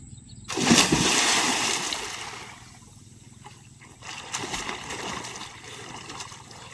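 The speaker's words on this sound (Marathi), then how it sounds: "पाण्यात एक उडी खाल्ली का फ्रेश होईल." A person jumps into cold water for a swim: a sudden loud splash bursts in near the start, then churning water noise fades and a second, softer stretch of splashing and sloshing follows.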